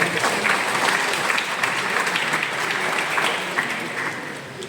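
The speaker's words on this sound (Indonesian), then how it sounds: "Boleh tepuk tangan untuk Fajar." An audience at a mock-up interview session bursts into sustained applause, dense even clapping from many hands that holds steady and fades slightly toward the end.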